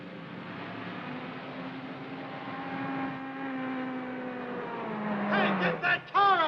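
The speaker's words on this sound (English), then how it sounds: "get that car out of the way!" Car engine droning steadily in a film scene near a missile base, a low harmonic hum that rises in pitch toward the end, with louder bursts and what may be shouting voices over the last second.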